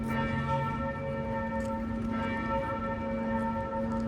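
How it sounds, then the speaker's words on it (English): Notre-Dame de Paris church bells ring steadily at a distance, their tones overlapping and sustained with a soft ambient background. "This might be one of those 5-minute ringing of the bells."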